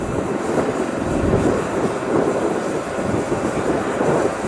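Airbus H145M light twin-engine military helicopter in a flight demonstration, giving a steady, broadband engine and rotor roar that holds at a constant loud level throughout with no talk.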